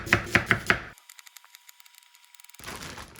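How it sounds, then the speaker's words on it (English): Four quick knife chops on onions against a cutting board, crisp and close, followed by a run of lighter rapid taps that may be more chopping, then muffled kitchen noise. "Cutting up 4 of them now and freezing them makes things so much easier later."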